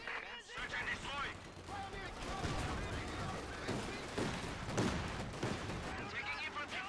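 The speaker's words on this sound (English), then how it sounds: "Taking infantry fire." Rapid infantry gunfire in a video game, dense volleys of shots crackling continuously at steady loudness, with a voice talking over parts of it.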